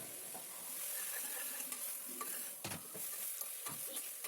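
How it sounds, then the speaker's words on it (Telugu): Tummi leaves and dal stirred together in a pan as they wilt, a soft continuous sizzle with light scraping spoon strokes, fairly quiet, close, and without any voices. "ఇది కాస్త మగ్గేదాకా కలపాలండి."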